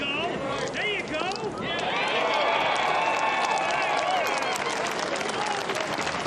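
A golf gallery around the par-3 18th green at the Great Lakes Bay Invitational cheers and applauds in a sustained roar, with shouts and whoops rising and a commentator speaking over the crowd.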